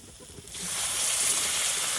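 Hot water hits fried spice paste in a pan for a small-fish curry, a sudden loud hissing sizzle that bursts in after a quiet moment and holds steady, close and alone.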